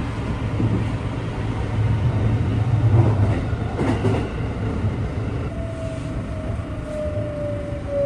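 A steady rumbling of a JR West 321 series electric train departing Amagasaki Station, heard from inside, with a rising motor whine joining in partway through.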